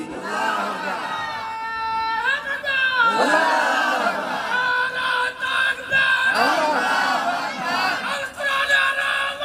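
A large crowd at an outdoor religious gathering in Pabna chants back in loud unison to the call Naraye Takbir, with the voices rising in repeated waves of shouting that sound full and close.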